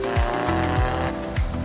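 A car pulls away in gear on a test drive, its engine loud and close with repeated rising whines as it revs, about three sweeps in under two seconds, with no voices.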